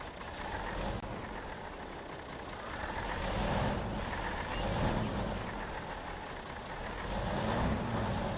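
A truck backs up in the farming game Farming Simulator 22, its engine droning low and steady under a faint, repeated reversing beep.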